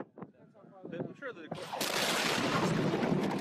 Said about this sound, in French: Voici la même explosion filmée sous un autre angle.